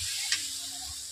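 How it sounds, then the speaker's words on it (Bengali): Spice paste sautés in a pan with a little water, giving off a steady, close hissing sizzle with one brief tick of utensil contact partway through. "সামান্য পরিমাণ জল দেওয়ার পর 1 থেকে 2 মিনিট মশলাটাকে আমি কষে নিচ্ছি ভালো করে"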